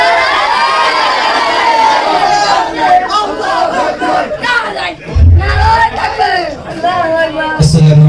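A large religious gathering roars back in chanted response to a Nara-e-Takbir call, loud massed voices swelling in waves, with deep bursts of shouting near the end.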